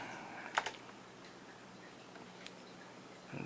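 Keys pressed on an Apple IIc computer keyboard, a quick clustered pair of clicks near the start, a lone faint tap later and another key press at the end, close and quiet.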